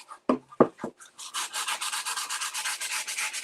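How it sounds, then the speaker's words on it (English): A few sharp knocks, then a brush sweeps sanding dust off a surface into a trash can in quick, rhythmic rubbing strokes, close and moderately loud with no talking. "we're just going to dust off my sanding into the trash can."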